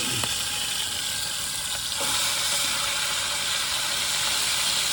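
Triggerfish, snapper and margate frying in a pan give off a loud, steady sizzle and hiss throughout, with a faint knock or two as the fish are flipped early on.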